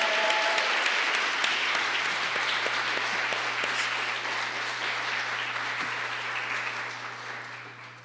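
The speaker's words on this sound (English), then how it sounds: "Let's give them one more round of applause." Sustained applause from an audience at a public arts and copyright event, a dense steady wash of clapping that continues throughout and fades slightly toward the end.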